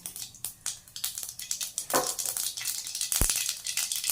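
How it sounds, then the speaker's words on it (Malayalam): Half a spoon of mustard seeds crackle and pop in hot coconut oil in a pan already heated with dried red chillies for beetroot mezhukkupuratti. The pops are faint and scattered, growing into a busier rattle. "കടുക് പൊട്ടിയിട്ടുണ്ട്"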